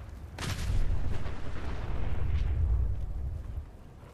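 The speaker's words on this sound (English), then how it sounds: "Should be a second explosion." An explosion in the video game Fallout 4 bursts with a sharp onset, followed by a deep rumbling roll and a second thump that fades over several seconds, loud and close with no talking.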